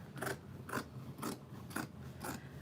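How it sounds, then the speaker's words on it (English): Scissors cutting fabric pieces for a sewn diaper bag, five crisp evenly spaced snips in a steady rhythm, close and clear with no talking. "I'm just laying my pieces together and I'll cut it out"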